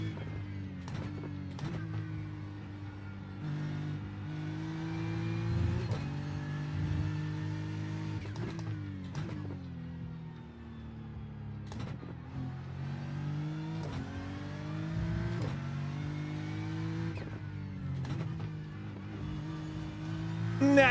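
BMW GT3 race car engine in iRacing at Laguna Seca, a steady loud drone with pitch climbing through each gear and dropping sharply at repeated upshifts, running continuously without talk.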